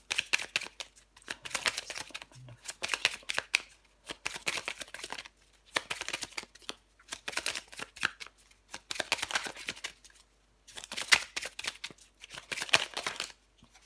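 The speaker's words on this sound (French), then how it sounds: "Je vais encore prendre une carte ou deux pour vous, les Gémeaux." Tarot cards shuffled and drawn by hand, crisp riffling and sliding bursts repeating in quick rhythmic runs with brief pauses between, close and fairly loud, no talking.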